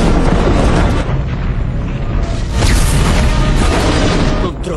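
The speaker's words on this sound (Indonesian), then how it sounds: "Beberapa dari pos yang meluncur itu telah meledak" Loud, continuous blasts and booming rumble from falling pods exploding in a science-fiction film, dense and sustained throughout with a swell midway and no pause between bursts.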